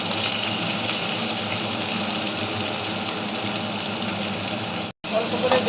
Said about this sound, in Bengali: অল্প করে জল দিলাম